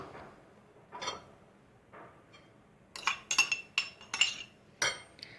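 Tomatoes, onion and other ingredients are mixed together in a large bowl, with a spoon clinking against the dish in quiet scattered taps that grow into a quick burst of sharper clinks.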